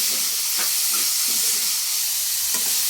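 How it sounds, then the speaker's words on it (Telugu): Banana flower (arati puvvu) fries in a pan, a steady loud hiss and sizzle with soft stirring scrapes running underneath. "కలుపుకుంటూ ఫ్రై చేయాలండి."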